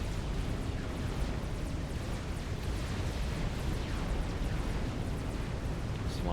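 Continuous dense rumbling explosions as battleships destroy a fleet of cruisers in the real-time strategy game Supreme Commander, a loud unbroken roar of blasts and bursts.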